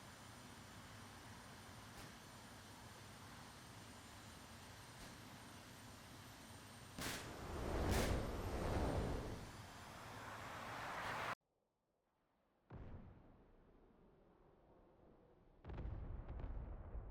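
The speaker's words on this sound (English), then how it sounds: "Rockets. Away!" Rockets fired from an Su-25 attack jet in the DCS flight simulator, heard as a loud roaring rush over steady jet engine noise, then a sudden cut to quiet and a couple more heavy bursts.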